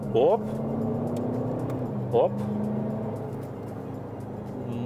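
Skoda Kodiaq vRS with a 2-litre diesel, heard from inside while driving: a low, even engine hum under someone talking, with two brief higher tones breaking in.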